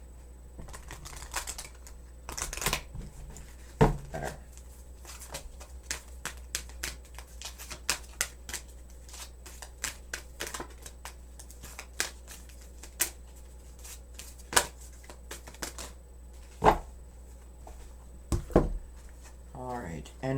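Tarot cards are riffled and tapped in a series of quick, crisp bursts with pauses between, close by, while a voice speaks briefly.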